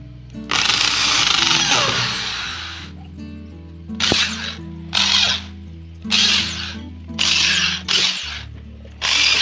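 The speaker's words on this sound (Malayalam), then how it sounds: "ഓക്കെ നമുക്ക് പൂപ്പറിന് സ്ക്രൂ ചെയ്യാം" A power driver screwing a subwoofer into a car for a low-budget music system: one long whirring run, then five short, evenly spaced driving bursts with brief pauses between, close and loud.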